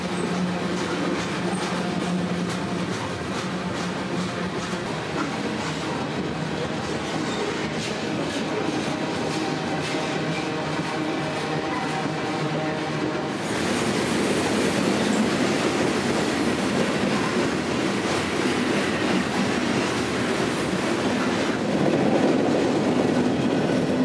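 A long BNSF freight train of hoppers and grain tank cars rolls past near a Chicago station, a continuous loud rumble with wheel clatter that grows heavier partway through, with no voices.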